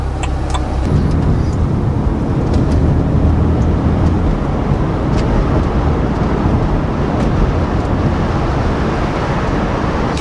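An Alpina B3 engine in drive mode pulls hard and loud, a continuous rumbling roar of acceleration with gear changes that barely break the steady, dense engine and road noise.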